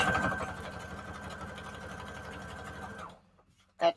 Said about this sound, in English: I'm going down the middle of the lines here with the zigzag stitch.